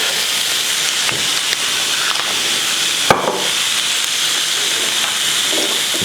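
An egg frying in oil in a pan, giving a loud, steady close-up sizzle and hiss throughout, with a single sharp tap or crack partway through.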